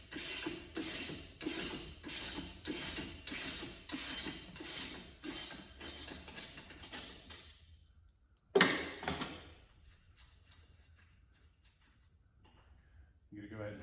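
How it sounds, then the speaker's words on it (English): A ratchet wrench cranks out the strut-to-cradle bolt, an 18 mm nut on a 15 mm bolt, on a 2019 Dodge Challenger R/T, with a steady run of close, loud clicking bursts, then a single clack after a pause. "go ahead and remove the bolt that holds the strut on the cradle"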